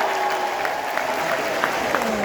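An audience at the Palais du Peuple in Conakry, Guinea, applauds in a dense, steady wash of clapping. A voice carries faintly over the crowd.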